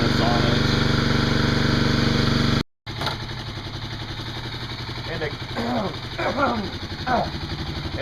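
A Kawasaki KLX 250SF motorcycle running without its airbox snorkel, the engine loud and buzzing close up, then cutting abruptly and returning as a lower, steadier running sound while a person talks over it.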